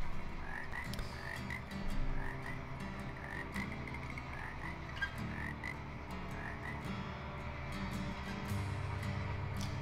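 Frogs croak in the ambient soundscape of a Trainz railway game, a steady chorus of repeated croaks over a low rumbling background hum, with no voices.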